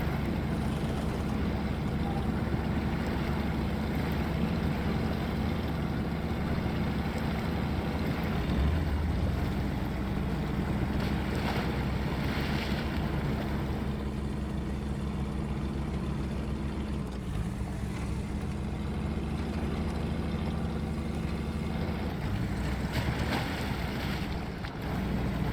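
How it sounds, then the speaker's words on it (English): A modded trail rig truck plows through water in SnowRunner, giving a constant loud rushing wash of water and engine noise that stays steady and close throughout, with no voices. "Seeing this kind of plow through the water like that is just incredible."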